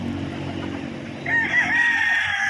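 A bullstag gamecock crows once, close and loud, the call swelling in the second half over a low background rumble.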